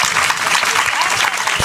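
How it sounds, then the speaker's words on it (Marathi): An audience at a village kirtan in Pimpaldoli breaks into dense, loud applause, a short continuous burst of many hands clapping close by. "टाळ्या वाजवा टाळ्या."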